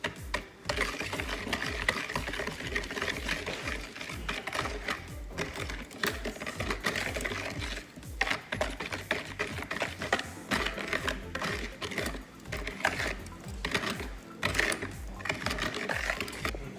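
Chocolate chip cookie dough is mixed with two large eggs in a bowl, giving a close, continuous rapid clattering and rattling that rises and dips slightly in level, with no talking.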